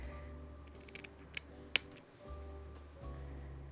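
Scissors cut down a piece of card with a few quiet snips, one sharper click standing out, over a low steady background hum.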